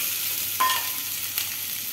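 Onions frying in a pan for green mango chutney, a steady soft sizzle with a couple of brief stirring scrapes, close and alone without any voices.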